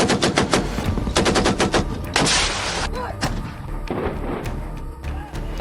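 Pakistani army artillery guns fire shells in rapid bursts, heavy booms and cracks in close succession, some rolling and echoing, loud throughout with a narrating voice faintly underneath.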